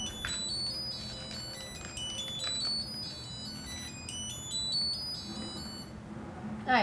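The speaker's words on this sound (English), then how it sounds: "good annoying beeps." A buzzer on a Circuit Playground electronics board sounds a rapid string of shrill electronic beeps at shifting pitches, close and fairly loud, running continuously for several seconds without talk.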